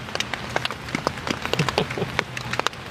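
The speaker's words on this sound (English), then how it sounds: "currently we are having rain here" Rain patters on the tree canopy and ground at a wooded campsite in Cheesequake State Park, New Jersey, with steady faint drips and scattered sharper droplet taps close by.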